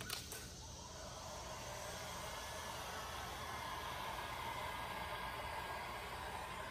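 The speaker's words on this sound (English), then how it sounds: "now what you do is you take your heat gun" Heat gun blowing on car window tint film during a DIY tint job on a new Ford Edge, a steady, faint, airy whoosh that runs unbroken and alone after a brief click at the start.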